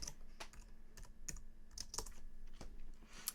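A computer keyboard clatters with quick, irregular keystrokes, close and fairly soft, in a steady burst of typing with no talking.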